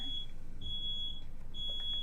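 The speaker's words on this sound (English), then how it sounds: "sorry about the beeping." A high-pitched alarm beeps in short repeated bursts, sharp and electronic, nearby, with quiet room noise underneath.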